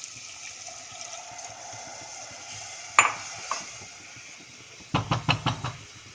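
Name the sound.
milk added and stirred into potato curry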